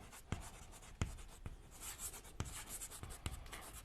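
Chalk or marker strokes of a teacher writing on a classroom board, faint and close, with a few sharp taps and scratchy strokes spaced irregularly and no talking.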